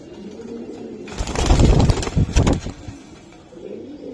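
Pigeons held at a dealer's for sale, cooing with a loud burst of fluttering and rustling close by in the middle, then quieter low cooing.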